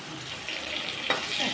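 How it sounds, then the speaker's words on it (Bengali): Bitter gourd pieces frying in plenty of oil in a home kitchen, a steady soft sizzle and crackle with a brief stirring scrape near the end, faint and close, no talking. "করলা একটু বেশি তেলে ভেজে নিচ্ছি"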